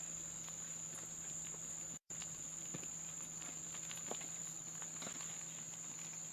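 Crickets chirp in a steady, faint, high drone by a stream at 41 Mile Bore Rest Area in the late evening, with soft scattered rustles and a brief dropout partway through.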